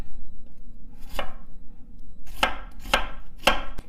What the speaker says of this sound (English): And then we'll take half an onion and slice it.